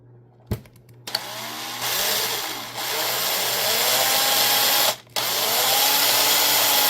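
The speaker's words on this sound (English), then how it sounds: "Don't have to drill down too far." A power drill bores into a metal casting with a loud, steady high whine that starts after a couple of clicks, dips briefly, then resumes close by.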